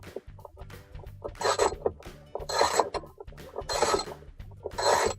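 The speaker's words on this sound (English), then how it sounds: "Using your 7/16 socket wrench," A 7/16 socket wrench turns a bolt out of a Whirlpool washer with a rhythmic ratcheting rasp in four repeated bursts and clicky pauses between them, close and fairly quiet.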